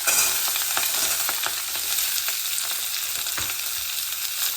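Boiled mixed vegetables with a dried red chilli tossed into hot oil in a pan for a five-spiced vegetable dish, giving a loud, continuous sizzle with occasional soft stirring scrapes and no talking.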